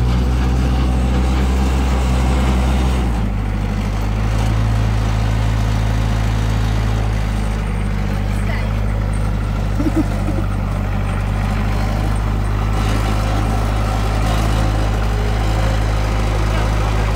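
A tractor engine drones steadily at close range while tilling soil at a farming workshop in Australia, a loud low rumble that shifts in pitch once early on and then holds.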